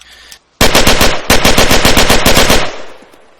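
Sustained bursts of rapid automatic machine-gun fire in the game Arma 3 with a sound mod, loud and close, two long volleys separated by a brief pause, with a dry mechanical crack to each shot.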